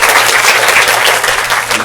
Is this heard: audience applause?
yes